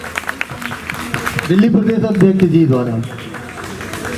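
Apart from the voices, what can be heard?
crowd applause welcoming a speaker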